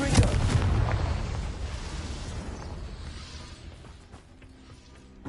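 Confringo fire-blast spell cast in the Hogwarts Legacy video game: a loud explosive burst at the start, then a long rumbling roar that gradually fades, with a faint thump at the very end.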